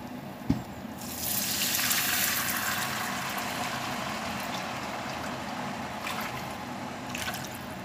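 Broth is poured over paella rice in a pan, giving a steady close splashing and trickling stream that runs for several seconds after a single sharp knock at the start.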